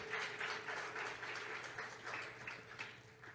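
A church congregation applauds together, producing faint, steady clapping at a distance over a low background hum.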